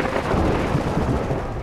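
Sniper gunfire in the S.T.A.L.K.E.R. Lost Alpha shooter at a stadium, a dense low rumble of distant rifle shots and booming reports rolling continuously through the game soundscape.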